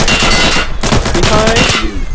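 Automatic gunfire in the video game Insurgency rattles in loud, close, rapid bursts with barely a pause, a faint voice briefly audible beneath it.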